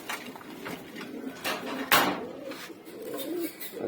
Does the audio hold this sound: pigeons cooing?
yes